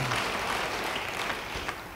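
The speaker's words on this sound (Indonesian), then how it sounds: "Yang percaya, beri tepuk tangan bagi dia." A church congregation applauds during a sermon, a steady, dense wash of many hands clapping at once, sustained at an even level throughout with no clear voices on top.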